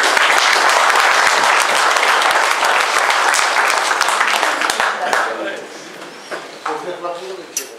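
A crowd applauds at a hound pack hunting competition on hare, with loud, dense clapping that thins out and fades toward scattered claps and murmuring voices near the end.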